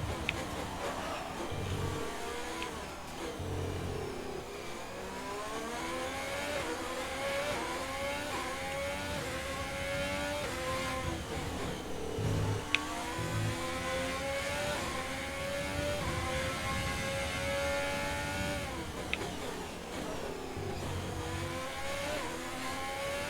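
Formula 1 race car engines scream at high revs in the F1 2020 racing game, a steady loud whine rising and falling through gear changes, with other cars buzzing nearby and no talk.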